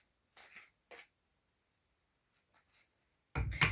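A Thoth tarot deck is shuffled by hand: a few soft, brief card riffles in an otherwise quiet room, with faint gaps between them and a louder, denser burst of shuffling at the end.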